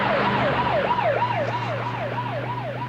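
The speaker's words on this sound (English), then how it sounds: "Sirens make me jumpy." An emergency vehicle siren wails in a rapid, repeating up-and-down pattern, fairly close and loud over a low steady engine hum, with no talking.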